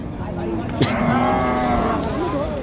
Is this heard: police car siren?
no